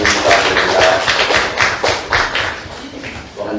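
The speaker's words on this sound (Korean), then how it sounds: "하나님께 영광의 박수입니다" A church congregation claps during a worship service, with a burst of moderately loud applause that comes in uneven surges with some heavier thuds, then eases off before a final swell.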